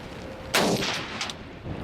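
A single sharp rifle shot from an Armalite AR-10 in .308 fired at aluminum, a sudden loud crack with a brief ringing decay over the outdoor background.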